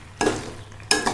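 A spoon stirs mixed vegetables in a cooking pan, making two short scraping strokes over a low background sizzle, close and distinct with no speech.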